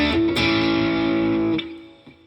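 Electric guitar through a distortion pedal on the neck pickup, a loud chord struck and sustained before fading, followed by a quieter picked note.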